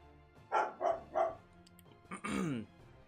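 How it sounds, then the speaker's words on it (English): A dog indoors gives three quick, loud barks in a row, then after a short pause a longer, drawn-out bark or yelp close to the microphone. "My dog's freaking out right now."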